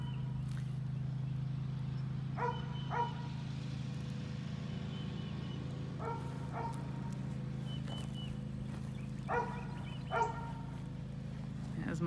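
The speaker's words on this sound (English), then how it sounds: "As my beautiful dog barking his little brains out." A dog barks outdoors at a home's yard and driveway, short distant yaps coming in small bursts of two or three, over a steady low hum and faint background noise.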